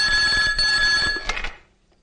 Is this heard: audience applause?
no